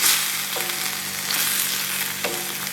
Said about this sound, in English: We're going to stir this around vigorously